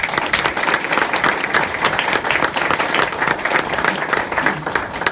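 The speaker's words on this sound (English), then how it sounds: "give yourselves a round of applause for hanging in there for the 13 years" A graduating class at a ceremony applauds loudly, a thick continuous crackle of many hands clapping at once, sustained with no talk over it.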